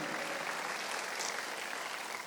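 Church congregation applauding during a Sunday worship service, a steady, even wash of many hands clapping at moderate distance.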